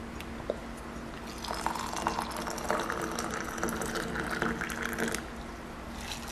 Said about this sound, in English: Let's add some hot water.